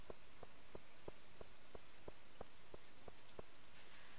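Steady rain in Stardew Valley patters softly over a surface, with a regular series of light drip-like taps roughly every third of a second; no voices.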